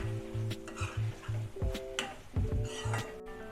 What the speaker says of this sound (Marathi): आता हे सर्व व्यवस्थित मिक्स करायचं आहे।